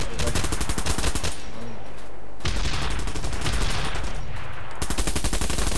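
Rapid automatic gunfire in the Bullet Run video game, loud bursts of dense rattling shots with a couple of brief pauses between volleys.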